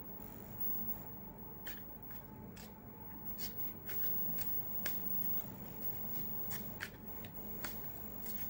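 Soft, close handling of a tarot deck: a low steady rustle of cards sliding with a scattering of faint snaps and flicks as one card is drawn, with no talking.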